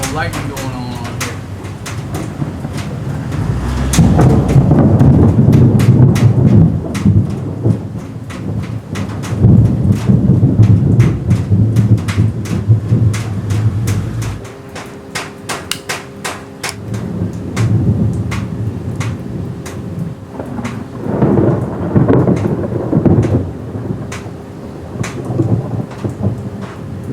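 A thunderstorm rolls overhead with deep, booming thunder swelling and fading in long waves over steady rain patter, birds chirping faintly, and people talking intermittently nearby.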